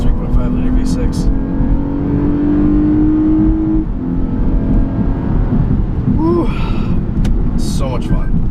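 A 2017 Lexus IS350 F Sport's 3.5-liter V6 roars steadily under load, its pitch climbing as it accelerates, with a voice briefly audible near the end.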